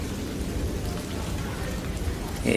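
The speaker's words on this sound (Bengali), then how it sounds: "একদম মুষলধারে বৃষ্টি শুরু হয়ে গেল" Heavy rain pours down in a dense, steady hiss, with a low rumble beneath it.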